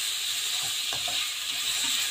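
Food being sautéed in a pan, a steady close sizzle and hiss with a few faint stirring scrapes, no talking.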